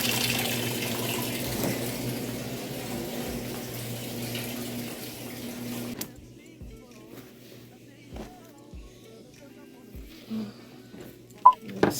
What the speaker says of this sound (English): I started the washer